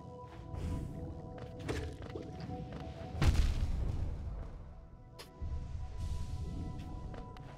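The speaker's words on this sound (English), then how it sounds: "Everything likes to explode in this area." Explosions go off in a Hollow Knight game area, with a sharp loud boom near the middle and a second burst later, over a constant rumbling game soundscape.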